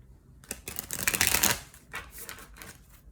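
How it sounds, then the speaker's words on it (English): Tarot cards are given a quick shuffle, a close papery riffle of rapid flicking bursts that swell in the middle and then trail off into a few softer slides and taps. "Let me do a quick shuffle."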